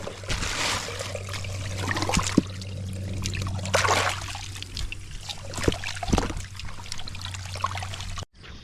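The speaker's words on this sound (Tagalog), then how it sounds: "Napasok na po ang tubig" Water runs into a rice paddy in a steady trickling stream, close and continuous, with a low hum underneath and a few sharp knocks before it cuts off at the end.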